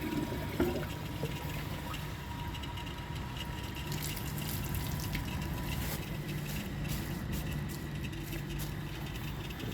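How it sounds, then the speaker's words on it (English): Water flows steadily into the bowl of a 2012 Jacuzzi Perfecta toilet, a constant pouring and rushing wash that stays even throughout. "I'm just going to add some water to the bowl"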